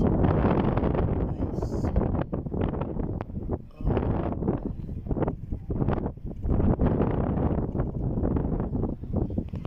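Steady, heavy wind buffeting the microphone, a loud low rumble with gusty surges and brief dips, no voices.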